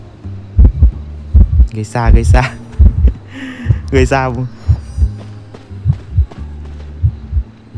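Heartbeat effect from the Identity V video game, a loud rhythmic low thumping pulse repeating throughout, with someone talking over it.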